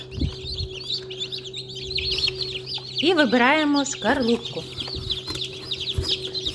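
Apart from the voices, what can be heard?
newly hatched chicks chirping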